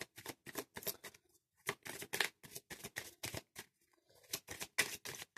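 Oracle cards being shuffled by hand, a series of quick riffling bursts in an uneven rhythm with short pauses between, close and fairly quiet, no talking.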